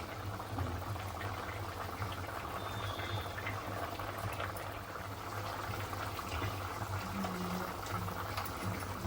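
Bombay duck curry simmers in a pot for four to five minutes. A steady, dense bubbling and popping boil continues evenly from start to finish, with no voices.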